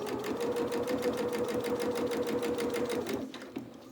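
A sewing machine stitches a seam on a small doll dress and then back-stitches to lock it, giving an even, rapid needle chatter close up that stops abruptly near the end.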